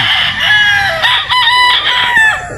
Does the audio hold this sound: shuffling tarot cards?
no